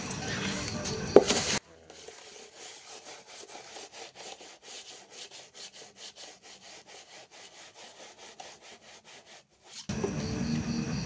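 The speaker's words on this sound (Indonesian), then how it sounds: "kalau udah basah seperti ini, tinggal diamplas bloknya" A cylinder block from a Honda Vario 150 motorcycle engine, wetted with gasoline, is sanded by hand in rapid, even back-and-forth strokes for about eight seconds. Louder handling noise comes before and after.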